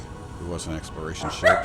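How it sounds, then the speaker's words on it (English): Dogs yip and bark in short bursts in the background while someone talks over them, with the sharpest yelps near the end. "Sorry about the dogs."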